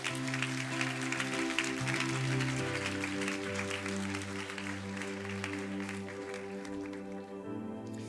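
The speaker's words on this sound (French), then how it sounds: "Et on peut l'applaudir doublement." A church congregation at a baptism service applauding a young woman named Jade, soft, continuous clapping under sustained music.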